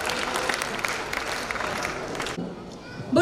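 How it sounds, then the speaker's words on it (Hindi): An audience claps loudly in welcome before a children's religious play at a Jain school event, a dense burst of applause that cuts off abruptly after about two seconds, leaving room noise. "जोरदार तालियों के साथ स्वागत कीजिए।"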